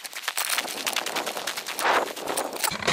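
9mm carbine shots fired with Power Pistol and Accurate #7 loads crack out in quick repeated succession, sharp loud reports tumbling close together outdoors on a range.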